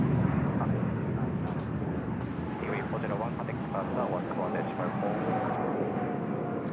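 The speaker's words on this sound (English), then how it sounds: "We've got Airbus A380 just dropping it in now." An Airbus A380 touching down at Seoul Incheon Airport gives a low, distant engine rumble that stays fairly even, with someone talking over it throughout.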